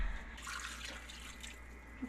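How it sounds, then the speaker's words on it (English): Cold tap water running into a cooking pot: a steady, moderately loud rushing splash of water filling the pot, continuous throughout with no talking. "then we'll fill this up with cold water"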